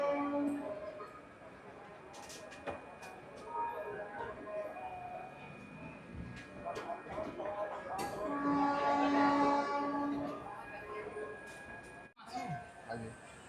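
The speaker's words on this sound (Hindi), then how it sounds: "ये सामने प्लेटफॉर्म नंबर 1 से किसी प्लेटफॉर्म नंबर 5 से किसी मेमू ट्रेन का डिपार्चर हो रहा है" A MEMU commuter train departs from a platform at Sonpur station, its rumble and horn-like tones carrying across the station over a busy background with voices nearby.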